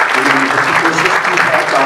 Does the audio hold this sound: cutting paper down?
no